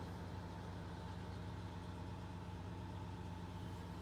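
A gold IH Scout pickup engine idles while warming up, a steady low rumble with an even pulse that stays faint and unchanging throughout, with no talk.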